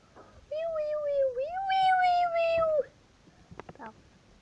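A single drawn-out cat meow, rising and falling in pitch for about two seconds, followed by a few faint clicks and rustles.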